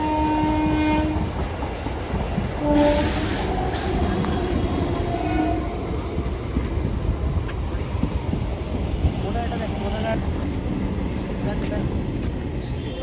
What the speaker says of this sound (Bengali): আবার পাশ দিয়ে আরেকটা ট্রেন ঢুকে গেছে।